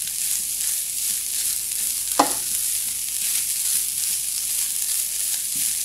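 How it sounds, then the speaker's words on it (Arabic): Chicken pieces frying with onion and garlic in a pan, a constant close sizzle with one sharp utensil knock as the pieces are turned, no voices. "انا دلوقتي شوحت البصل مع الثوم، وهنزل بقى بالفريخ هقلبهم بالظبط التقلبتين"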